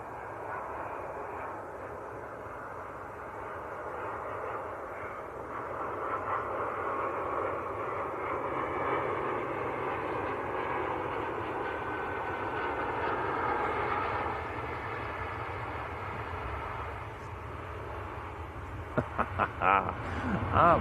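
Qatar Airways Airbus A350-1000 airliner at Manchester Airport, a broad steady jet engine roar that swells gently in the middle and fades, with a few clicks near the end.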